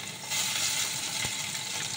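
Chopped garlic sizzling in hot oil in a wok, a steady bright hiss that swells shortly after the garlic goes in and stays loud and continuous.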